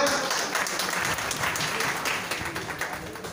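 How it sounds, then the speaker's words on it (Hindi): Sustained crowd applause welcomes a guest at a doctors' and employees' association conference, a thick wash of many hands clapping steadily that fades slightly toward the end. "तालियों से स्वागत।"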